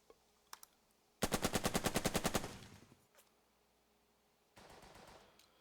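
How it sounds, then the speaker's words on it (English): Burden of Command video game machine gun attack: a sharp, rapid burst of about a dozen evenly spaced shots fades into rumbling echo, then a second, quieter rattle follows, with a few small clicks earlier on. "What I need to do is attack with this MG over here."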